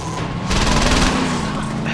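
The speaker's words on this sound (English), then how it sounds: "Just use the assault weapon." Assault weapon gunfire in the video game Saints Row 2: a loud, sustained burst of rapid automatic shots over dense, constant game noise, with a steady hum running beneath.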